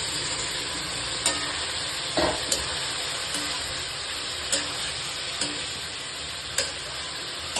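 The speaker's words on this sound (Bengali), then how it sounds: "সিদ্ধ করা চিকেনকে আমি দিয়ে দিলাম।" Boiled chicken is stirred through a hot pan for chilli chicken, a continuous soft frying hiss with occasional sharp spatula taps and clicks, close but fairly quiet.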